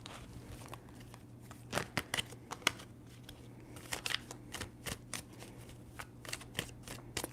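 Tarot cards being shuffled by hand, a run of crisp riffling flicks and soft slaps in quick irregular bursts, close and fairly quiet, with no voices.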